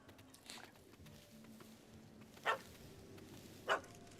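A dog in the video game The Witcher 3: Hearts of Stone gives two short, sharp barks about a second apart over a steady low ambient game background.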